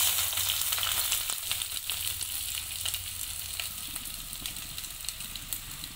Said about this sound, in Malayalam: നമ്മൾ എണ്ണ ചൂടായി വന്നിട്ടുണ്ട് ഇനി നമുക്ക് ഇതിലേക്ക് ഉള്ളി ചേർത്ത് കൊടുക്കാം